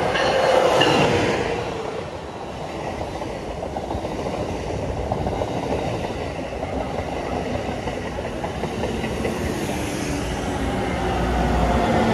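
A train rumbles past at Route 128 station on the Northeast Corridor, a loud, continuous roar with rail clatter lasting throughout at close range.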